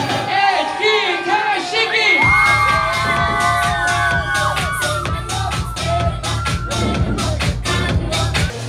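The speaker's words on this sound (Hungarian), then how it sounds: "szeretnék egy óriási sikítást mindenkitől" A large party crowd at an outdoor music event in Tiszakeszi screams and whoops loudly all at once, a dense sustained roar over pounding music and a voice on a microphone.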